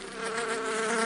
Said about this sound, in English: And a bee